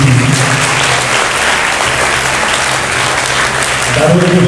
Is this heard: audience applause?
yes